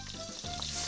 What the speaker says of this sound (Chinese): 煸香